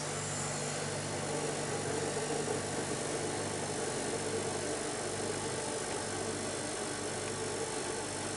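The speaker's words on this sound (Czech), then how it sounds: "Nyní se nám do systému začíná plnit plyn." Gas being filled into a system by a refrigerant charging machine, a steady loud mechanical hum and hiss continuing evenly throughout, with no talk.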